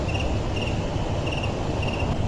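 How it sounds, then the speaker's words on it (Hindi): Steady chorus of crickets chirping in a silent, eerie night setting for a horror cartoon, with a continuous rhythmic trill and a low ambient hum underneath, no voices. "केवल झींगुरों की आवाज और कभी-कभी दूर कहीं से उल्लू की चीख सुनाई दे रही थी।"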